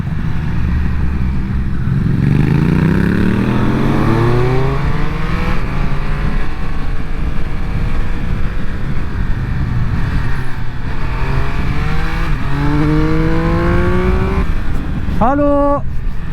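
A Triumph Speed Triple 1200 RS, a 2023 triple-cylinder naked motorcycle, accelerates hard through the gears to overtake, its engine note rising in repeated sweeps with quick upshifts, loud and close under constant wind rush.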